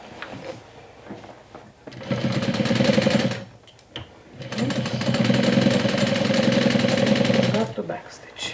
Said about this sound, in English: you're gonna see me sewing it with the sewing machine